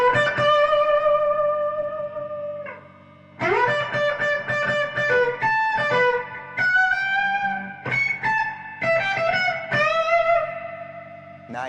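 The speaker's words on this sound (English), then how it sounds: "Let's hear some reverb." An electric guitar played through a Supro amp with the reverb turned up rings out in sustained notes and chords, with a pause between phrases and lingering, echoing tails.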